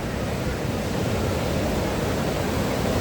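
The Parvati River rushes under a small bridge at the entrance to Manikaran Sahib, a dense, loud, unbroken roar of fast water with no gaps.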